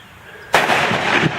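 A single sharp gunshot strikes an exploding target outdoors, a loud sudden blast followed by a roaring, rumbling boom that lingers for most of a second before cutting off.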